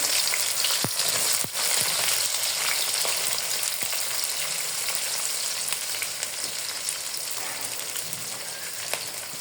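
Chopped onion and sliced green chilies fry with cloves, cardamom and cinnamon in a pan, giving a steady, close, loud sizzle throughout with a few brief sharper crackles and no talking.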